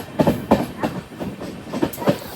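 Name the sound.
Amrit Bharat Express train arriving at Chengannur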